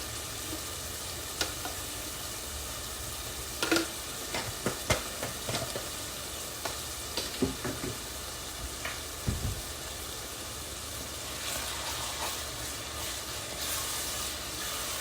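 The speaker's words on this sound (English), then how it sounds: "Can you hear that sizzle? That tells you that the water is gone." Steady sizzling of peppers frying in a pan for efo riro once the water has cooked off, a continuous crackling hiss with occasional louder pops and stirring clatter.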